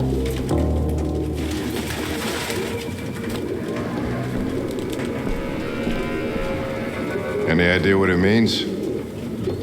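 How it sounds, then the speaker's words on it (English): Pigeons coo in the video game Detroit: Become Human, several birds murmuring steadily beneath a dense ambient backdrop while a voice talks over it. "No human could live with all these fucking pigeons."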